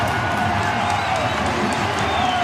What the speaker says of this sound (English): The crowd's gone wild.